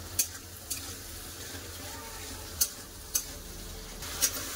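Tomatoes frying with salt in a pan, a low steady sizzle punctuated by five sharp, bright ladle taps against the pan at uneven intervals.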